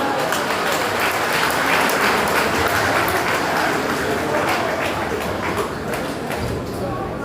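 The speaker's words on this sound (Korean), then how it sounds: "힘찬 박수로 함께해 주시기 바랍니다" A crowd at a Democratic Party leadership rally in Jeju gives a vigorous round of applause, dense and continuous for about seven seconds, with scattered cheering mixed into the clapping.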